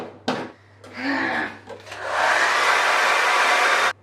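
A handheld hair dryer blows on freshly toned blonde hair, switching on to a steady, loud whooshing roar that runs for about two seconds after a short burst and some brief rustling, with a voice speaking faintly early on.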